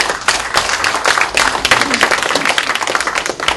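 A room full of lawmakers at a Korean party caucus meeting applauds loudly, a thick, continuous burst of many hands clapping at once, with no one speaking.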